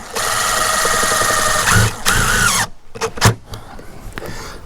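A power driver whirs as a screw is driven into a downrigger mount on a boat, a steady motor whine that slows and stops, followed by a few short clicks and knocks.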